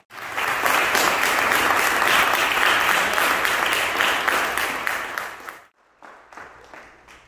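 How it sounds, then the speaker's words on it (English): A church congregation claps hands in praise, a loud, dense, rhythmic burst of clapping lasting about five seconds before it breaks off, followed by softer scattered sounds. "Let's clap our hands for the goodness of God."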